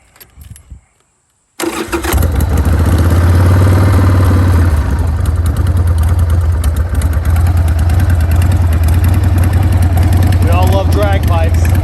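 A 1994 Harley-Davidson Sportster 1200 big bore with drag pipes cranks after a short quiet pause, catches abruptly and settles into a loud, rumbling, uneven V-twin idle that continues to the end.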